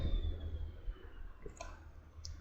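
Computer mouse clicks while working in SolidWorks CAD software, a few sharp, quiet clicks spaced irregularly over a low background hum.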